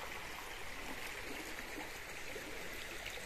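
A stream flows through a river deep in a forest, a steady, broad rushing wash of water that holds constant throughout with no voices.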